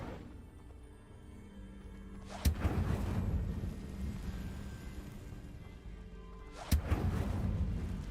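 The Incendio fire spell in Hogwarts Legacy bursts out in two sharp cracks a few seconds apart, each followed by a roaring, rushing whoosh that fades slowly under low game ambience.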